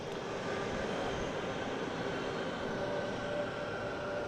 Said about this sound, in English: That's an American 777. That's going to London Heathrow.